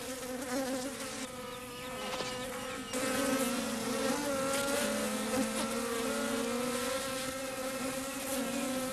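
Bees buzzing steadily around a hive raided by a honey badger, a dense droning swarm heard close and continuous, with no voices.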